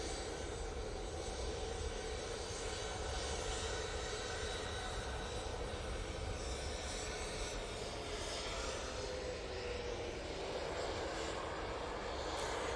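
An Etihad airliner coming in to land at Manchester Airport produces a continuous broad jet-engine roar that holds steady and loud for nearly thirteen seconds, with a slowly shifting tone as it passes near.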